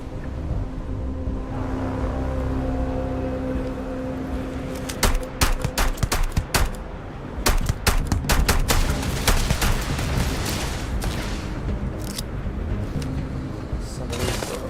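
Gunfire rattles in Starfield, bursts of loud sharp shots clustering in rapid uneven volleys across the middle and later stretch over a constant low ambient rumble.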